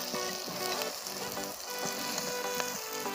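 Stuffed brinjal curry vegetables frying in a clay pot in an outdoor kitchen, giving a steady close sizzle with fine crackling and spitting throughout and no voices.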